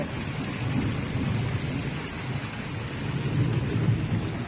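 Heavy rain from a thunderstorm, with lightning, pours steadily onto a flooded courtyard with a deep rumble of thunder rolling underneath, continuous and close, with no voices.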